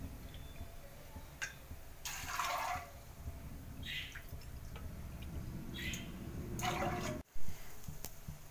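Water is poured into a pressure cooker over a cup of washed fresh peas in a kitchen, coming in two short, splashy bursts close by, with gentle drips and quiet background noise between them.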